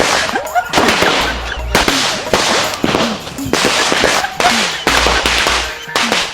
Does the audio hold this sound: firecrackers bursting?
yes